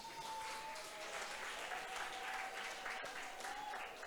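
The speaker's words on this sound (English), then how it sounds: "Can we give ourselves a round of applause?" Audience at an entrepreneurship week seminar gives a steady round of applause, a dense, even wash of clapping sustained throughout at moderate distance, with a faint tone lingering underneath.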